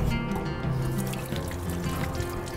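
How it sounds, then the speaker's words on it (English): A kitchen sink tap runs steadily while hands are washed beneath it, a close, continuous splash of water with small shifting gurgles and no talking. "Let's wash my hands."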